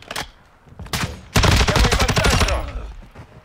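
Rapid automatic gunfire in a first-person shooter video game: a few short bursts, then a loud sustained stream of shots lasting about a second, close and sharp, with no talk over it.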